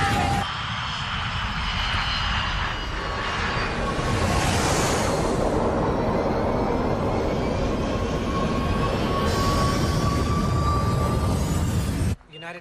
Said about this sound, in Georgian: დასვი თვითმფრინავი